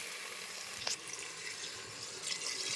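Water pours into a pot of frying masala while kalla paya (mutton trotters) cooks. A faint, steady splashing and hiss comes from close by, with a few small sharper splashes.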